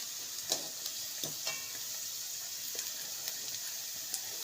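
Chopped onion fries with cumin seeds in a pan for a peanut chutney. A steady, even sizzle runs throughout, with a few faint clicks from stirring, and nobody speaks.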